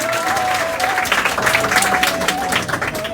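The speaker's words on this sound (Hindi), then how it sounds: "तालियों की गड़गड़ाहट अभी गूंज रही है।" Enthusiastic crowd applause for successful Bihar board Class 12 students, a thick, sustained wash of clapping with some cheering mixed in, close and loud for the whole stretch.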